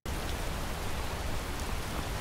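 Steady rain hisses from the weather of a modded Skyrim game, as a dense, continuous wash of noise with no other sound over it.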